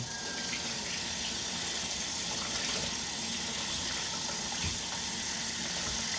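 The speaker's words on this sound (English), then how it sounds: "Let me wash my hands again real quick." Tap water runs steadily from a kitchen faucet while hands are washed clean of bread dough, a continuous close gushing hiss with no talking.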